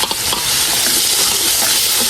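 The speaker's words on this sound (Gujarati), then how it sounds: "ત્યાર પછી એને ડુંગળીને તેલની અંદર સડવા દેવાની છે." Onion paste fries in hot oil for dal bhakhari, a loud, dense, continuous sizzle with faint stirring scrapes throughout, close up and without any voices.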